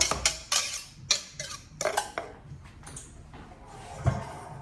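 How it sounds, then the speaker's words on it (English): A spoon mixes wet and dry ingredients in a bowl, making a series of quick clinks and scrapes that thin out into softer stirring, with one last knock near the end. "Take my spoon and I will stir this just to combine."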